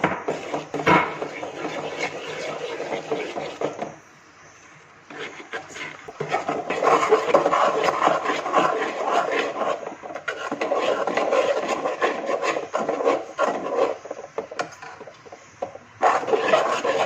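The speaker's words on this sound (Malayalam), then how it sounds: "അപ്പം ഇതിലേക്ക് കുറച്ചായിട്ട് ആഡ് ചെയ്തിട്ട് നമ്മളിത് ഇളക്കിക്കൊണ്ടേ ഇരിക്കണം" Rice flour being stirred into boiling water in a pot for rice ball payasam, close scraping and rubbing of a spoon against the pot in long uneven bursts with brief pauses.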